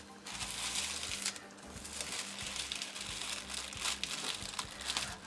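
Tissue paper wrapping a small scrapbooking package is unwrapped by hand, producing near, continuous soft crinkling and rustling with a low hum underneath.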